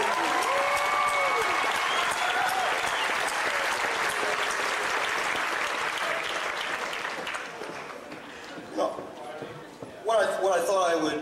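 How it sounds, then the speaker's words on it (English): An audience at an evening talk breaks into sustained applause that slowly fades, with a voice heard over the clapping at the start and speech resuming at the end. "So I think you ought to give yourselves a round of applause."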